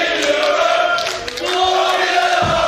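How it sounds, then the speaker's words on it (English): Crowd at a 2021 Weber Cup bowling match cheering and shouting loudly, sustained roaring voices throughout without a break. "these two youngsters have the crowd fired up here."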